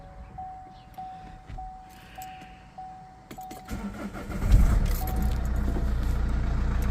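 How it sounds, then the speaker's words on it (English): Vauxhall Insignia 2014 2.0 CDTi diesel with a limp mode fault cranks and starts close by, after a quiet stretch with a faint steady tone, then settles into a loud, rough idle. "As you guys can see how the car starts."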